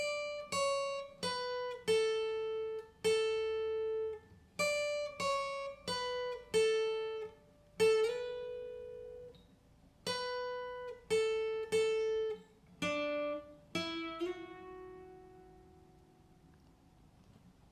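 Guitar plays a song's solo line: a run of clear plucked notes in short groups, some gliding between pitches, ending on a ringing sustained note, heard alone and close.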